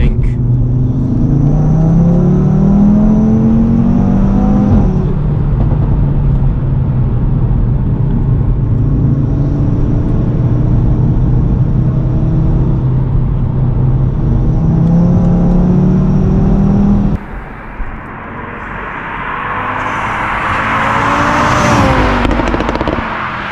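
A tuned 2022 Audi RS3 five-cylinder engine with sports exhaust revs loudly and close, with rising and falling engine notes, a sharp crackle, then a hard climbing rev at the end.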